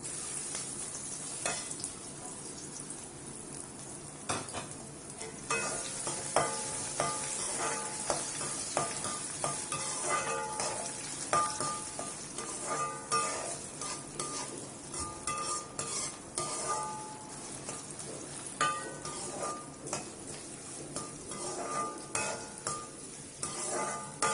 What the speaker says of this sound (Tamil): இந்த உருளைக்கிழங்கு கட் பண்ணி வச்சிருக்கேன்ல, இதை நான் போட்டு ஃப்ரை பண்ணுறோம்.